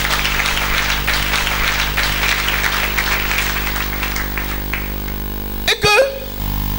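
Church congregation applauding and cheering for the Lord at a French-language worship service, dense clapping and crowd noise filling most of the stretch, fading toward the end with a brief louder burst near the close.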